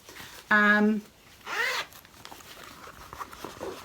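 Zipper on a small handmade zippy pouch with gingham lining, pulled in two quick, close, crisp zips with a short pause between them, followed by quiet room noise.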